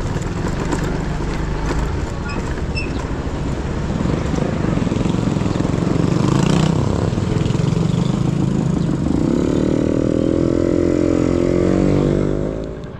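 A grass cutter powered by a Robin engine runs loud and close with a continuous rough drone, and a diesel engine is also running nearby; the engine note climbs into a higher, steadier whine near the end.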